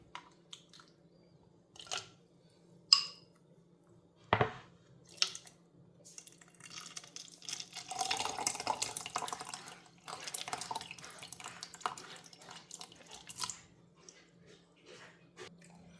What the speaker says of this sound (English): So we're just going to gently pour it out inside the blender.